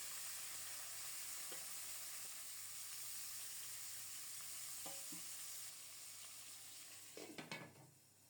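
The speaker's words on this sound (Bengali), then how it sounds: "তেল গরম হলে গোটা জিরা ফোড়নে দিয়েছি।" Whole cumin seeds and fish frying in hot oil for a Bengali fish curry, giving a soft, steady background sizzle, then a few sharp clinks and scrapes of a utensil near the end.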